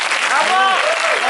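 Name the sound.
audience applause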